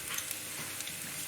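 Curry base gravy hits a hot pan for a chicken pathia, giving a brief, soft, steady sizzle with no voices.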